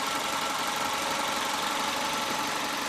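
A 1999 Subaru Legacy Wagon's flat boxer engine idles steadily throughout, an even mechanical drone with a slight knocking texture, close and fairly loud, with no voices.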